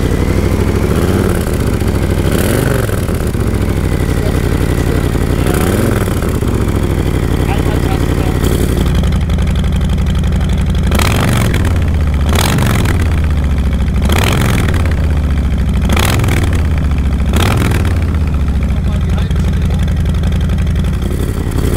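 Harley-Davidson motorcycle fitted with a Jekill & Hyde exhaust, idling loud and close, then blipped through a series of about six sharp throttle revs that rise and fall in quick succession, with talk over the idle.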